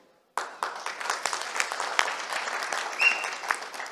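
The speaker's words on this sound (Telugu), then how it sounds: "చప్పట్లు కొట్టడం కోసం చెప్పలేదు నేను" Audience applause at a film pre-release event: a sudden burst of clapping from a large crowd starts after a brief silence and carries on steadily and loudly.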